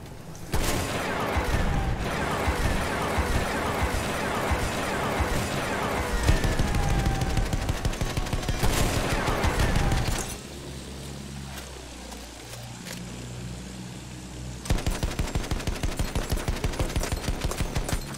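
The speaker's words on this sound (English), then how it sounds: "I have a gunner also, he seems to be shooting the airship." A gunner firing a machine gun at an airship in the video game Battlefield 1, heard as long, loud, rapid bursts of automatic fire. A brief lull with a rumbling engine and a falling whine comes before the shooting resumes.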